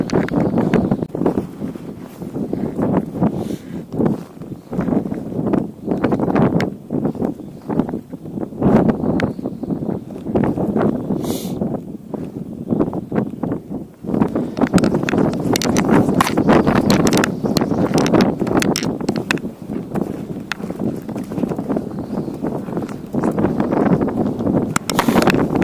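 Strong, icy wind gusting across a frozen sea during ice fishing for navaga, a continuous loud roar of buffeting against the microphone that swells and surges, with brief crunching and rustling noises.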